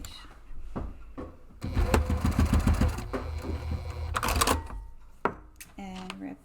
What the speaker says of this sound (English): just thread those strap tabs through and then go ahead and stitch across